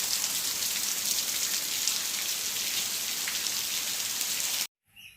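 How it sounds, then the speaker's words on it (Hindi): Heavy monsoon rain pours steadily in a dense, hissing wash of drops on surfaces, loud and unbroken, then cuts off abruptly just before the end. "इस बार झमाझम बारिश में हम लोग फंसे हुए हैं"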